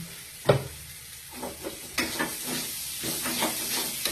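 Sweet crispy corn fries in a pan with sugar added, a soft steady sizzle broken by intermittent spatula scrapes and taps, close and fairly quiet with no talking.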